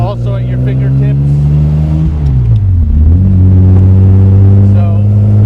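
A 1956 Jaguar XKSS recreation by Lynx with a four-speed manual gearbox idles and warms up nearby, a steady loud engine note that dips and swells briefly mid-clip before settling back to a continuous rumble.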